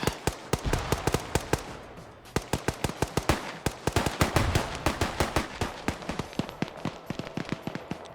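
Rapid gunfire in a video game shootout: repeated sharp shots in fast bursts, loud and close, with a brief pause before the firing resumes.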